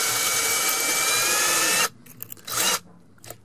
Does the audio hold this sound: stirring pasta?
no